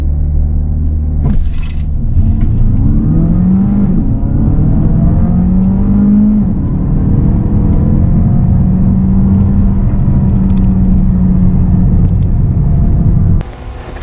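A Peugeot 308 GT Hybrid from 2022 launched at full throttle in Sport mode, its engine roaring loud and steady for a long pull, the pitch rising and falling through the gears before cutting off abruptly at the end.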